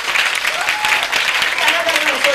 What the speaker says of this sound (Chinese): 我们掌声鼓励